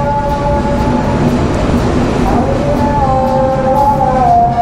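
The Padma Express pulls away from platform 1 at Tangail station with a steady low rumble of wheels and carriages, faint tonal hums and squeals drifting over the continuous roll.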